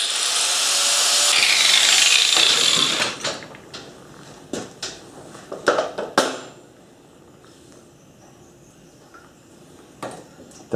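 A power tool cuts metal pieces for welding during a post hole drill centrifugal clutch repair, with a steady high whine for about three seconds, followed by scattered metallic clanks and knocks nearby.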